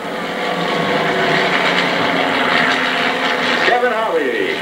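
Four home-built light aircraft with 150 and 160 horsepower engines fly in formation overhead, a sustained droning roar that swells and shifts in pitch as they pass, with a person talking over it.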